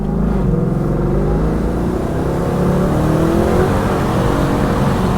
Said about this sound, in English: I'm gonna give it a little gas when we get out here, see what happens.